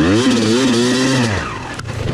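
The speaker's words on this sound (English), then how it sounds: "Grab your dirt bike for me so I can hear it." A dirt bike engine revs loud and close on a trail, its pitch climbing and then falling away as a steady engine drone continues.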